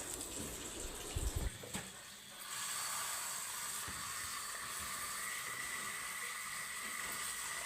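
New potatoes, gritty with sand, are rinsed under a running kitchen tap: a steady broadband hiss of flowing water with a brief heavier splash and clatter near the start, close and continuous.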